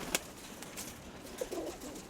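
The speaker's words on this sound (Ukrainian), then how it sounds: "Ось цей голубок." Soft pigeon cooing, a few low murmuring coos close by, with a light rustle and faint background noise.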